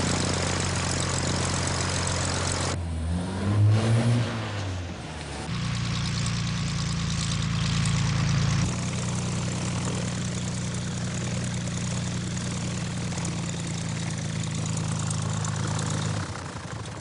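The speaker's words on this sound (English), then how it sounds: "They're going off in a private aircraft." A radio-drama sound effect of a private propeller aircraft's engine: a steady, close, droning hum that shifts pitch partway through, then holds an even tone for most of the clip.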